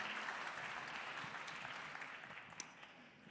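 Audience applause at a medical research foundation's colloquium on women's health, a dense sustained clapping from a seated crowd that gradually fades toward the end, heard alone without speech.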